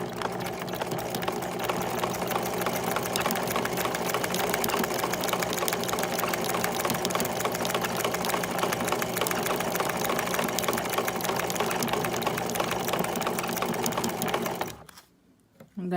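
A sewing machine runs at a steady close, loud whir while stitching the thick part of a letter M on a Halloween costume, then stops abruptly near the end.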